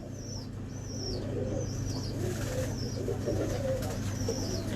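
A pigeon cooing in low, repeated throaty phrases, close and fairly quiet, with thin high chirps from other birds and a steady low hum beneath.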